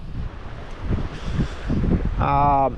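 A sailboat making seven knots in an inner channel, with gusty wind buffeting the microphone and water rushing along the hull, and a voice briefly heard near the end.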